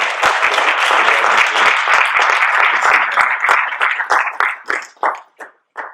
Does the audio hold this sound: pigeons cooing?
no